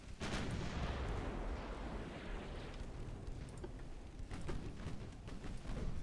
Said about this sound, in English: And ideally, I'd launch both port and starboard side. Port side launched.